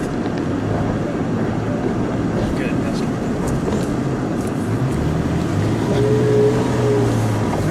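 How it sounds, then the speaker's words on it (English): A 2016 Toyota Tacoma 4x4 pickup keeps moving off-road, its engine a steady, loud, close drone with low rumbling tones rising slightly toward the end. "This is the regular 4x4 system, and it's really not having that much of a problem as long as you maintain momentum."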